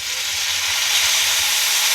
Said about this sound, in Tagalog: Kasi masusunog na eh sa lakas ng apoy natin.